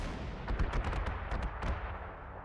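Ground units in Panzer Corps 2 fire at fighter planes: a rapid volley of roughly a dozen sharp anti-aircraft shots over a dull rumbling background, fading out toward the end.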